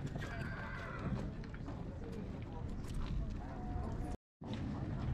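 Foals neigh and whinny among a busy livestock market crowd, with hooves clip-clopping and people talking throughout; the calls come in short bursts over constant background murmur.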